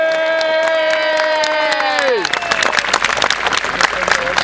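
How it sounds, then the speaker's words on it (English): A crowd bursts into loud, dense clapping and cheering at the Bannockburn battle re-enactment, breaking out midway after a long sustained tone and continuing strongly to the end. "Oh, give a big round of applause."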